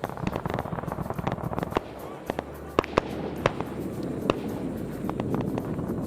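Artillery shells burst in the Arma video game, with dense, rapid crackling impacts and sharper, louder blasts scattered through, some near and some distant, under a continuous rumble.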